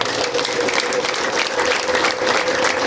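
Dense, sustained applause from a church congregation during a sermon on the resurrection fills the whole three seconds, steady and fairly loud with no talking over it.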